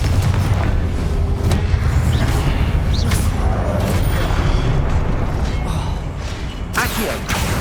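Confringo fire spell blasts in Hogwarts Legacy, a rumbling explosive roar with crackling debris and creaks, dense and continuous at close range, with scattered combat effects layered through it.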